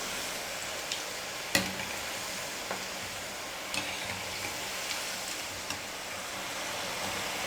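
Cauliflower pieces for Gobi 65 deep-fry in hot oil with a steady, faint sizzle, broken by a few sharp pops and crackles. Nobody speaks.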